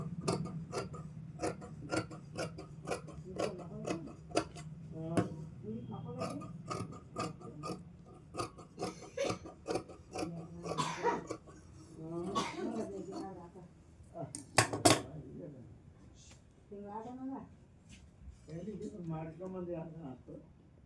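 Scissors cutting the cross belt piece of fabric for a 40-inch lining blouse, giving repeated crisp snips and ratcheting clicks close by, with a person talking over much of it.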